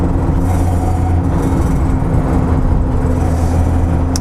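Lotus Elite's own 2-litre 16-valve four-cylinder from the early 1970s running smoothly, a loud, steady drone heard from inside the car on the move, with no speech.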